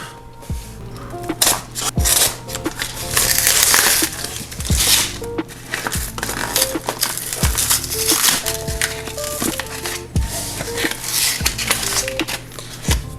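A cardboard package holding PSA graded Pokemon cards is opened: close, loud tearing, crinkling and scraping of cardboard and packing material in irregular bursts, with sharp clicks and thumps throughout.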